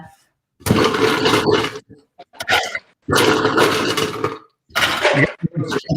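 An electric ice shaver grinds ice in loud bursts of rough, whirring noise separated by short pauses, while voices talk in between in a kitchen.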